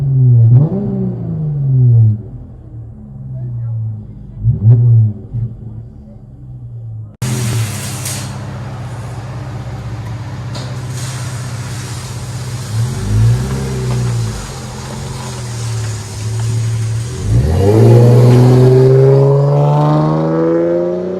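Exhaust of a 2014 Dodge Challenger 3.6L V6 fitted with baffles, heard from inside the cabin: several revs rise and fall, first muffled, then with a broader roar and a strong final climb.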